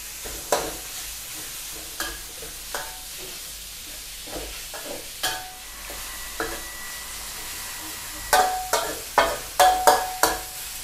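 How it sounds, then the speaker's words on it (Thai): Pork stir-fried with bell peppers in a pan: a soft, constant sizzle broken by spaced spatula scrapes, which turn into a quick run of sharp strokes near the end. "ผัดพอให้เนื้อหมูเปลี่ยนสี"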